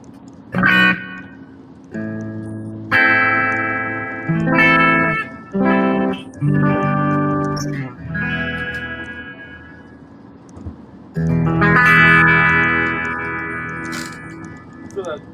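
An electric guitar, a Fender Meteora through a 5150 amp, plays a run of separate chords and notes with an echo effect, each one ringing on before the next, ending in a louder sustained chord.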